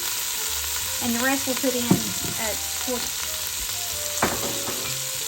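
Beef browning in a pan for stew, a soft continuous sizzle and frying crackle under a person talking, with a couple of sharper stirring clinks.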